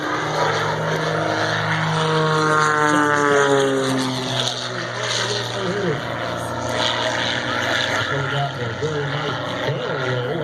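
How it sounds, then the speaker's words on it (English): A propeller airplane engine drones steadily, its pitch sliding up and down as the plane is put into a spin, with a voice talking over it. "He kicks the airplane into a spin"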